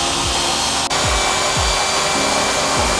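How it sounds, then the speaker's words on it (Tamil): A machine polisher drones steadily and closely while compounding a bike's paint before ceramic coating, with a faint repeating whir as the pad sweeps and one brief catch near the start, no voices. "ஸோ இப்போ பின்னாடியும் வந்து காம்பவுண்டிங் பண்ணிகிட்ருக்கோம்"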